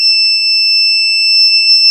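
A steady, high-pitched electronic alarm from a homemade door alarm buzzes continuously at close range, unbroken and loud throughout.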